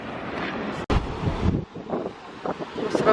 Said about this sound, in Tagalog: Mas ramdam dito yung hangin,